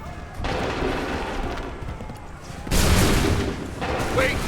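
Musket volleys crack out in a battle in the video game Assassin's Creed III, with dense rolling gunfire and booms swelling, pausing, then bursting loud again, with battlefield shouting underneath.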